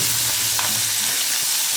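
Fenugreek leaves sauté in oil in a pan, producing a loud continuous frying sizzle with soft stirring movements underneath, heard close and without any voices.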